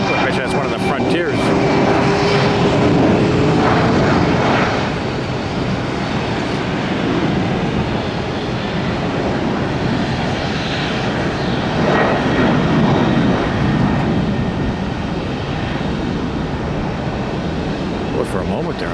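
Airbus A320neo airliner engines spooling up at Tampa airport after a hurricane, a broad rising whine and roar heard from a distance over rain and ambient noise, with faint talk now and then.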